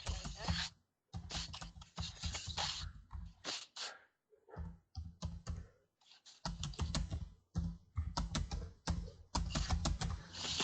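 Fingers typing on a computer keyboard to enter an Excel formula: quick, close clusters of crisp key clicks broken by short pauses, loud and dry.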